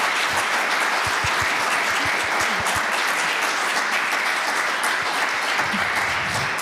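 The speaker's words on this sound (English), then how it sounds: "give a big clap" A church congregation at a youth service claps together in a full, steady round of applause, dense and close, holding at an even level from start to finish with no talking over it.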